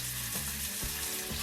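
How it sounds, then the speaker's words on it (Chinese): Drained pork ribs frying in a little oil in a hot wok for sweet and sour ribs, a dense constant hiss and spatter with a few faint knocks underneath, close and steady. "热锅中放入少量食用油，将刚刚捞出来沥干水分的排骨倒入"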